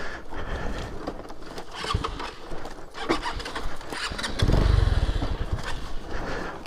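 An offroad Lifan KP motorcycle engine restarts after stalling: a rough, uneven engine noise builds into a louder, deep burst midway, then continues running close by. No one speaks.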